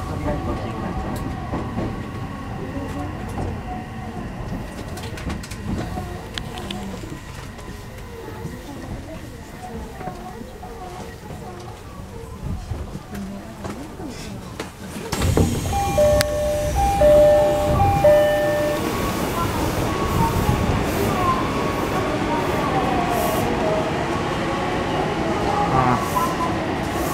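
An Odakyu 3000 series ten-car rapid express electric commuter train bound for Shinjuku rumbles and hums as it pulls out of Shin-Yurigaoka Station, growing louder midway, with station announcements and platform chatter mixed in.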